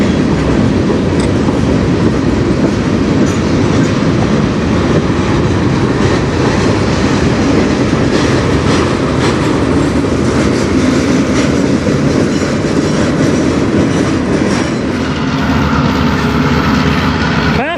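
CN freight train with tank cars rolling past on the Strathroy Subdivision, a loud, close, continuous rumble with rhythmic clickety-clack of wheels over rail joints, steady for the whole stretch.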